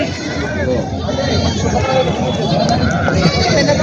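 Goats bleat at a busy rural goat market, with several calls rising over the constant chatter of a crowd and someone speaking close by throughout.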